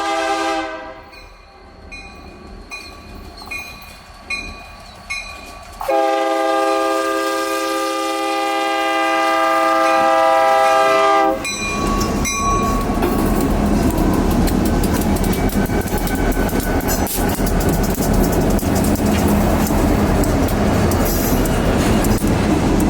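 A stone-hauling freight train of the Ohio Central Railroad passes close by, its horn blaring in long blasts before a loud, sustained rumble and clatter of rolling cars takes over.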